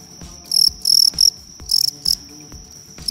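Fighting crickets at a national cricket-fighting tournament chirp loudly and close in short shrill bursts, several quick pulses separated by brief pauses, alone with no voices.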